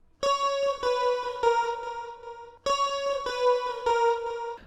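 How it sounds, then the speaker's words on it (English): Two harmonized electric guitar lines from the bridge of an 80s-style pop song, playing sustained notes in two phrases separated by a short gap, clear and alone without speech. "There's two little harmonies that come in for the guitars to kind of make the second part of the bridge more"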